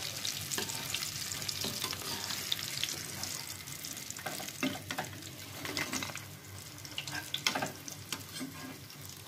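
Fish fingers fry in a pan with a constant close sizzle, punctuated by scraping and clattering as the pieces are stirred and lifted out.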